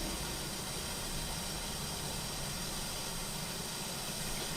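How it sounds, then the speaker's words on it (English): Steam hissing onto a baseball cap to heat it while it is broken in, a steady, even hiss that carries on without a break. It sounds close, and no one speaks. "I'm just going to hit that with a little bit of steam."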